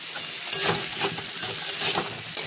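Spiced masala with potatoes and prawns sizzles and crackles in a pan as a little water is added, a steady close frying hiss with occasional stirring scrapes.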